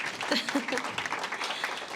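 Scattered clapping from a small group in a room, steady and moderately loud for a couple of seconds with a voice faintly mixed in.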